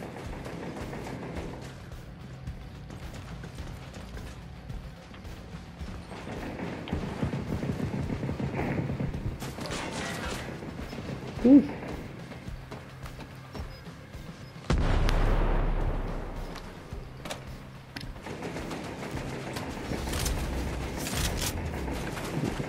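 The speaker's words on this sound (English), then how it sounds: "That's gotta be a gun. One of those auto turret gun things." Gunfire and booms from an automatic turret in a shooter video game, distant and muffled, with a sharp thump midway and a heavier rumbling burst later, no talking.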